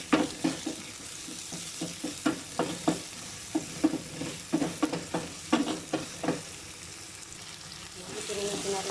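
Onion, garlic and ginger fry in a pan for Arabic-style fish biryani, with a steady low sizzle broken by regular stirring scrapes and clanks of a spoon, close and moderately loud, with no voices.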